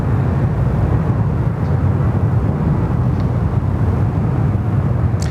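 A Qantas airliner in retro livery on final approach to the runway at Sydney Airport, a steady broad engine roar that holds constant and loud throughout with no breaks.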